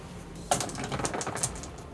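Dice clatter across a table during a tabletop game of Underworlds Nightvault, a quick burst of rattling clicks that begins sharply and trails off over about a second, close and fairly clear.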